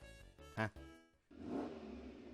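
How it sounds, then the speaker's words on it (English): A car engine from the ToHeart2 visual novel swells up and revs after a brief musical sting, a rising mid-range roar that fills the second half, with a quick spoken interjection just before it. "My response is drowned out by the sound of an engine."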